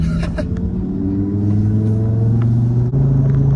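Stage 3 tuned 2018 Audi RS3 saloon engine held around a steady mid-range pull, a loud continuous droning rumble that rises slightly in pitch, heard close with no talk over it.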